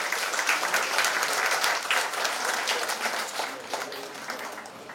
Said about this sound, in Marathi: जोरात टाळ्या वाजवा बाकीच्यांनी.